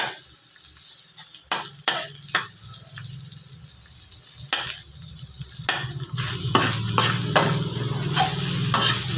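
Ground meat toasting in a pan for lumpia shanghai filling, crackling and sizzling as it is stirred, with uneven scrapes early on and the frying growing denser and louder toward the end.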